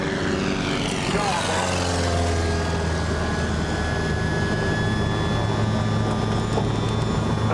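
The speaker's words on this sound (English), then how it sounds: "Murphy Rival coming by for a flyby" A Murphy Rival seaplane making a flyby at a seaplane fly-in, heard as a steady propeller-engine drone with shifting tones as it passes, under constant wind noise and distant voices.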